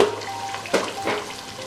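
Water pours into a pot of beef and browned yogurt for a spicy beef biryani, a steady close splashing stream with a brief louder gush midway, no voices.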